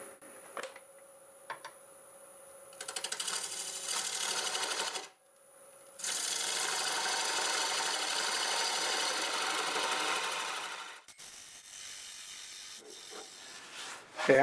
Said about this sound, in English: I'll use the square carbide just to figure out where the top needs to be